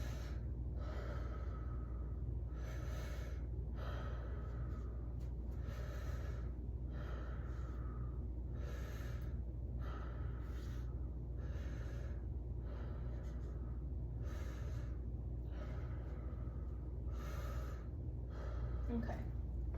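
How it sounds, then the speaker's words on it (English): A patient breathes deeply in and out during a lung check of the back in a head-to-toe exam, heard close through a stethoscope as slow, regular breaths over a low, steady rumble. "Can you take some deep breaths for me?"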